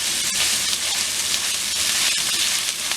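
Corned beef hash sizzling in a hot pan with butter as it is pressed down, a loud steady close-up crackling hiss with a few sharp pops.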